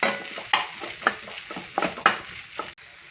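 Grated coconut with shallots and ginger is stirred in a pan to dry out, producing a soft background sizzle broken by rhythmic scraping strokes of a spoon roughly every half second, close and moderately quiet.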